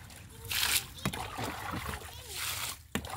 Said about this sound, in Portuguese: Vó já começou a tirar água.